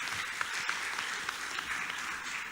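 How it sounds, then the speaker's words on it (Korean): An audience applauds steadily after a talk at a technology academy lecture session, a dense, even wash of many hands clapping that holds at moderate volume for its whole length, with no speech over it. "다시 한번 이도현 본부장님께 감사의 박수 부탁드리겠습니다"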